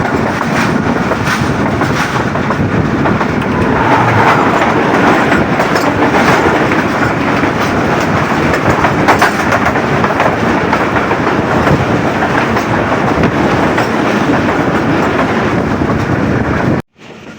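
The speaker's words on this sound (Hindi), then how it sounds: "7:27 पर ट्रेन पास हो रही है हमारी सादिकाबाद रेलवे स्टेशन" A train runs on rails through fog past Sadiqabad station, a loud, continuous rumble with rhythmic clickety-clack of wheels throughout, ending abruptly.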